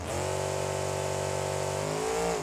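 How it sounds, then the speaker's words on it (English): Gravedigger monster truck in BeamNG Drive, its engine revving steadily and loud throughout, a sustained roar with a slight pitch dip near the end. "We have got the classic Gravedigger truck ready to go."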